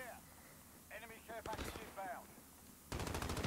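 Rapid automatic gunfire fills Call of Duty: Modern Warfare (2019) gameplay, with a short burst midway and a sustained stream of shots at the end, while a voice talks over the opening.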